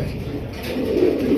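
A large Raj Golla pigeon of the Gopalganj big-pigeon type gives a deep, rolling coo that swells toward the end, close and loud.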